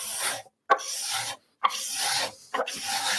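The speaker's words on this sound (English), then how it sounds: "We've got a video of how to sharpen a cabinet scraper." A woodworking cabinet scraper is sharpened with several long, firm rasping strokes, each one a coarse scraping sweep separated by brief pauses, close and clear with no talking.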